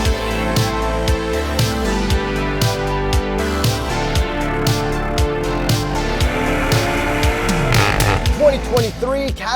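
A 2023 Cadillac CT4-V Blackwing launches hard under launch control, its engine revving and rising through repeated gear changes, loud and close throughout with some tire noise.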